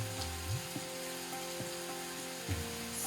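Chopped garden radishes fry in a pan for a stir fry, giving a continuous soft sizzle with a few quiet scrapes and stirs, heard alone at low volume.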